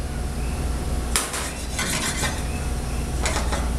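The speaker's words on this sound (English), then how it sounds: "I will toast the pine nuts. So turn your heat on low" Pine nuts in a pan over low heat, toasting with scattered clinks and scrapes of a utensil against the pan, a few sharper taps and rattles standing out over a low steady background, no talking.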